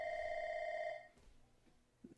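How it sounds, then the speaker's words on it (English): A telephone rings with a steady electronic tone for about a second, then stops, leaving faint room noise and a small knock. "It's like a ringing."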